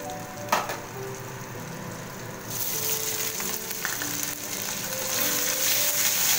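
Ginger and green chili paste hits hot oil with asafoetida, the sizzle jumping louder partway through and then crackling steadily, with occasional clinks of stirring and no speech.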